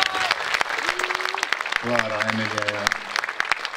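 Applause from a concert audience, continuous clapping underneath a voice speaking over it.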